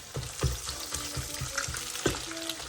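Eggs fry in a pan with a dense, steady sizzle, broken by a few clattering stirs and scrapes, close up and with no speech.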